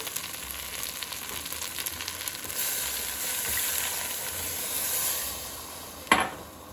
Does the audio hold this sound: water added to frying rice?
yes